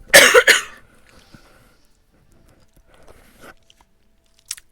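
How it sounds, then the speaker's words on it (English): A person gives a short burst of two harsh, close coughs, followed by faint scattered rustles and small noises in an otherwise quiet room. "Catching me right when I'm coughing."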